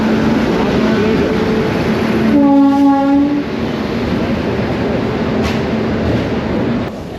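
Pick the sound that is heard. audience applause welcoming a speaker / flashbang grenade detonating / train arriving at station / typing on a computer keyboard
train arriving at station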